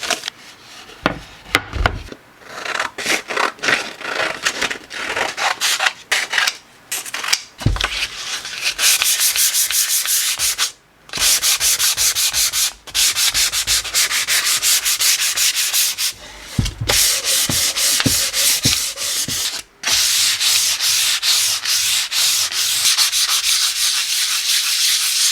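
Sandpaper scrubs over a wooden cutting board before oiling, a long run of rough, rhythmic back-and-forth rasping strokes, loud and close, with a few brief pauses and no talking.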